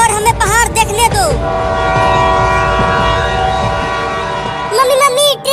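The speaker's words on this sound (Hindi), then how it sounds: "मम्मी मम्मी ट्रेन की सीटी की आवाज आ रही है, लगता है अब ट्रेन आने ही वाला है।" Train whistle from an approaching train: a loud, sustained tonal blast over rumbling rail noise, with a voice talking at the start and end.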